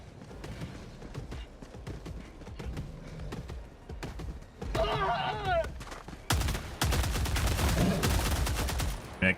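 Assault rifle gunfire during a Helldivers 2 mission, bursts of rapid shots crackling throughout, growing louder and denser in the second half, with other battle noise mixed in.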